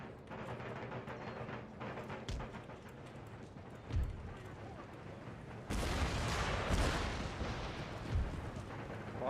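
Musket volleys and artillery fire in the Empire Total War strategy game, heard as a dense, continuous roar of distant gunfire with heavier booming bursts, steady and loud throughout.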